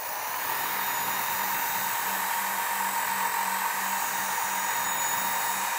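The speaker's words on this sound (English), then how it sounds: "Use a high speed and bring the sharpener to the tool." A Work Sharp Ken Onion Edition knife sharpener, fitted for grinding tools, runs at high speed with a steady, continuous motor whine and grinding hiss, loud and close, with no talking.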